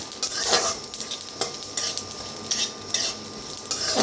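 Peanuts and sesame seeds dry-roasting in a pan over a low flame for a village-style Bhogi mixed vegetable dish, with steady scraping stirs and a faint crackle repeating in short bursts, close and fairly loud.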